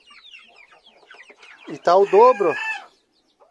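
A red rooster on a farm gives one loud, close crow near the end, preceded by soft clucking and faint background talk.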